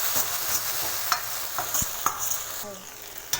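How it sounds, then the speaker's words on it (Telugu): Sauces being stirred into veg Manchurian in a pan, with a steady soft sizzle beneath scattered scraping and clicking strokes of the spoon against the pan. "2 table spoon green chilli sauce అన్నీ ఒకసారి మిక్స్ చేసుకోవాలి."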